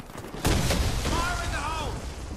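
A grenade explodes in a first-person shooter match, a sudden broad boom that rolls into a sustained rumbling wash, with game voice callouts and synthetic tones layered over the blast.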